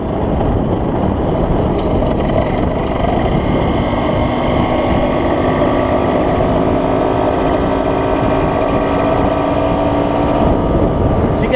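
A Derbi Senda 50 moped with new upgrades held at top speed: a steady, loud two-stroke engine drone with a high buzzing whine, continuous throughout, with wind rush over the microphone.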